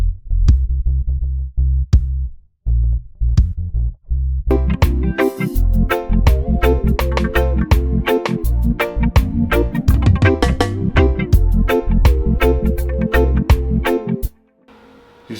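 Layered reggae bass sounds play together in a dense, punchy groove, with deep low thumps under a bright plucked rhythm, loud and steady for most of the passage before stopping abruptly.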